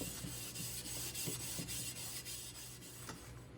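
Cleaning paste is rubbed by hand into an aluminium coolant part from a Porsche 911 (996), making soft, faint scrubbing strokes in a quick, uneven rhythm.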